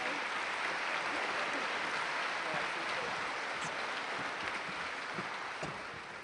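Conference hall audience at a Labour party conference applauding the platform, a dense, steady wash of many hands clapping at moderate distance that holds throughout and fades slightly at the end.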